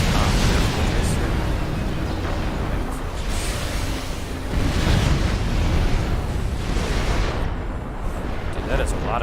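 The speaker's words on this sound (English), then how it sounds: "that is a lot of artillery" Supreme Commander artillery fire and explosions roll in as a dense, continuous barrage of booming blasts and rumbling impacts, loud and layered, with no spoken words.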